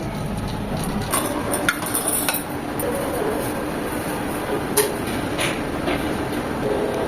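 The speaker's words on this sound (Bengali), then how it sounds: "আমরা এখন এটাকে সার্ভিং ডিশে সার্ভ করে নেবো" Egg khichuri spooned from the pot into a serving dish, with light clinks and scrapes of a metal spoon against the dish over a steady broadband background hiss, no talking.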